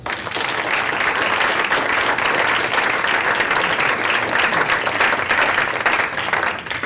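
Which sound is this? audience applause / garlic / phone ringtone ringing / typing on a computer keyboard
audience applause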